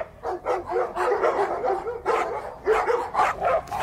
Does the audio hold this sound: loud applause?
no